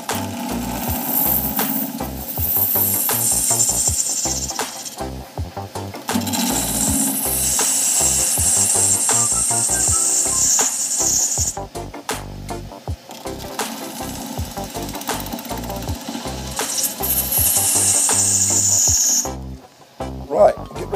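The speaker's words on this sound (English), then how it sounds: "Take the bulk of it off with a bedan, as it cuts quite nicely." A bedan tool cuts pearl white resin on a wood lathe, producing a close, rapid, rattling chatter in repeated passes broken by short pauses, with a high whine rising during some cuts.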